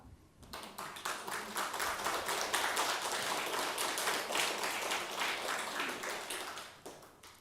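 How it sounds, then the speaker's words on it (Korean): Audience at a Korean Buddhist dharma talk breaks into sustained applause for about six seconds, many hands clapping in a dense, steady patter that swells quickly and fades at the end. "할 줄 알겠으면 박수 좀 쳐봐."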